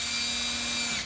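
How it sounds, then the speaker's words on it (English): Power drill boring a pilot hole into a storm door, a steady high-pitched whine held at constant speed for about a second before cutting off abruptly, close and loud with no voices. "First, we're going to drill our pilot hole."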